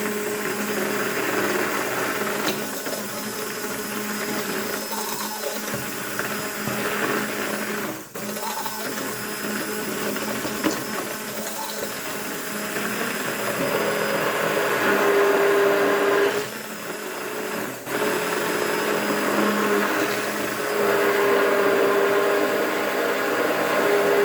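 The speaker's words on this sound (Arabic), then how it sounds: "نروحوا نميكسيو كلش مع بعض" Electric hand mixer whirring steadily through fried cake dough made with egg and yogurt, a continuous close motor drone with slight shifts in pitch and load, no talking.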